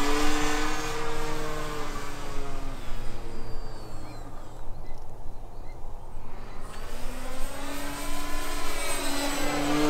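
Electric RC balsa stick airplane, a 1400mm Dancing Wings on a 2200 4S pack, flying overhead with a whining motor whose pitch drops as it passes by and then rises again as it returns, fairly loud against a steady background hiss.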